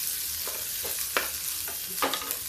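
Onion fries in oil in a pan over a high gas flame, a dense close hiss with a few scraping stir strokes standing out, steady and with no voices.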